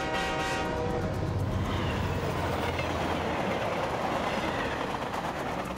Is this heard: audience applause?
no